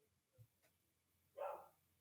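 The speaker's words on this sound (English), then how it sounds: "My dog is barking in the background" A dog barks once in the background, faint and distant, with a small thump just before it in an otherwise quiet room.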